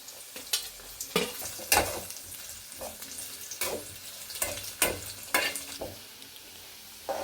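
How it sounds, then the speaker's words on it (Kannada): Steady sizzling of garlic frying in a hot pan until golden brown, with repeated scraping and stirring strokes, no voices. "ಇವಾಗ ಬೆಳ್ಳುಳ್ಳಿನ ಫ್ರೈ ಮಾಡ್ಕೋತಾ ಇದ್ದೀವಿ"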